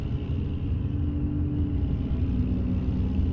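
A heavy truck engine in American Truck Simulator rumbles continuously at a steady low pitch, loud and close, with no speech over it.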